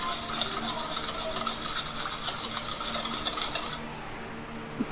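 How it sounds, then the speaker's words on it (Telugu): A spoon stirs powdered sugar into a French toast mixture in a bowl, making rapid, continuous clinks and scrapes close up that stop abruptly near the end. No one speaks. "ఒక్కసారి దీన్ని లైట్గా మిక్స్ చేసుకోండి."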